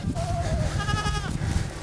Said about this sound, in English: Mama's just a Nigerian dwarf, and the rest of these are all fainting goats